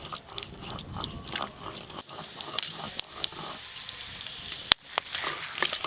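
Whole cumin, garam masala and bay leaf tempering in hot oil reddened with Kashmiri chilli powder, giving a steady sizzle and crackle with a few sharp pops, close by and with no talk.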